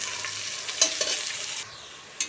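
Onion and whole spices, including fennel seeds, fry in a pan for mutton pulao, a close steady sizzle with a few spatula knocks and scrapes.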